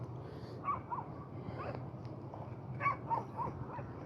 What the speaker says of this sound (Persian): سگام صداشون در اومده الان.